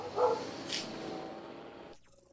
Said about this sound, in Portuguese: O cachorro tá revoltado sem nenhum motivo aqui hoje.